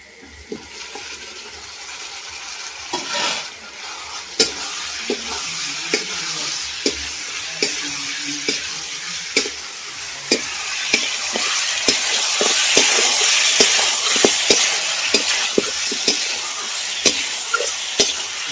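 Fried chicken pieces added to cooked-down masala for chicken curry, sizzling loudly in the pan; a continuous fry hiss with repeated sharp spoon scrapes and stirring knocks, growing louder toward the end.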